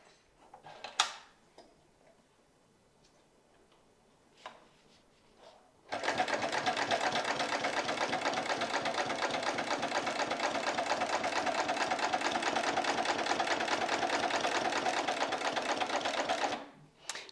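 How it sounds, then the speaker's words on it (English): A Barracuda sewing machine stitches quilt lines into a leather clutch. A few scattered clicks come first, then a close, steady, rapid mechanical ticking runs unbroken for about ten seconds before stopping abruptly. "I'm just going to go ahead and start and go ahead and stitch all of these quilt lines."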